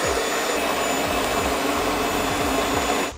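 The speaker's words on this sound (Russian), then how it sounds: "А белки ставим под вот такой миксер" Electric stand mixer whipping egg whites, a steady loud whirring motor drone with faint rhythmic beating, running continuously throughout with no talk.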